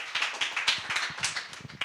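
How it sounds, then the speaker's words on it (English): Scattered clapping from a small audience at a web development bootcamp demo day in Berlin, a short, uneven burst of hand claps, close and fairly loud. "please give a very warm applause to Lendo, Lucy, and Paul."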